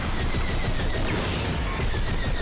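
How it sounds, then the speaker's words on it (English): An explosion in the Star Wars: Squadrons space combat game sounds as a steady broadband roar and rumble lasting a couple of seconds, fairly loud with no clear single blast. "That was a nice looking explosion."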